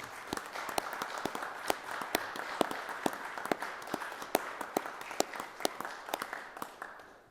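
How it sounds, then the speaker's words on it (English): Members in a budget hearing room clap together, a steady patter of many hands with sharp individual claps standing out, sustained at moderate volume with no talking over it. "I would like to give them a round of applause"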